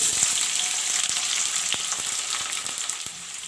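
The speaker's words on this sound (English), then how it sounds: "Friends, put some mustard oil. Now I will put in the sliced up onions." Sliced onions sizzle loudly in hot mustard oil in a pan for chicken with dahi, a dense, continuous crackling fry with scattered small pops and ticks.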